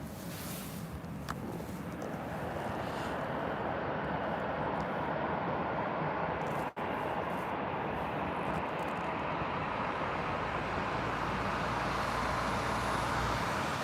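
A broad, steady roar from an Embraer airliner fills the air at Birmingham Airport, loud and continuous, with a brief dropout midway and no voices.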